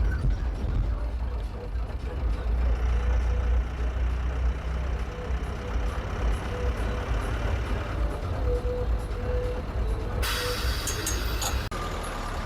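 A private bus on the Mananthavady–Pulpally main road in Wayanad idles at a stop with a low engine rumble throughout, and a sharp hiss of air brakes bursts out near the end.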